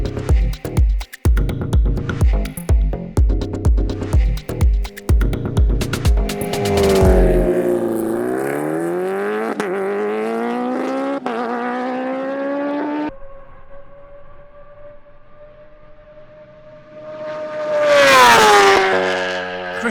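Supercharged Kawasaki Ninja motorcycle on a dyno, engine blipping in quick sharp revs, then rising into a long sustained high-rpm pull, dropping to a steady drone before a final screaming rev burst, loud and close with no talking.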